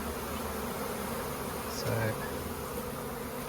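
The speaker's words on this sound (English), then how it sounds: "got a bunch of bees on the outside" A swarm of honey bees being captured into a laundry basket hums with a dense, steady, close buzz throughout, with a brief spoken word over it.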